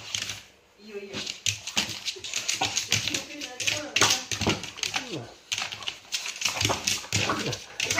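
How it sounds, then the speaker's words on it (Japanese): A Cavalier King Charles Spaniel puppy whimpers and yips indoors in short bursts, mixed with tapping claws and rustling. Someone talks over it in a soothing voice. "ララ吠えたらかん、吠えたらかん"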